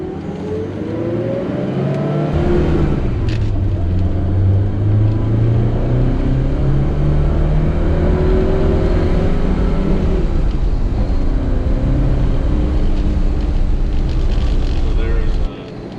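A 1974 BMW 2002 Tii with its 124-horsepower four-cylinder engine pulls away and accelerates, the engine note rising and shifting through gears, loud and close inside the car, with someone talking over it.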